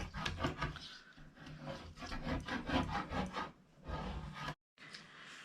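Glue spread by hand over a fabric cover while recycling fabric scraps, a steady close scraping and rubbing with rhythmic strokes that pause briefly near the end.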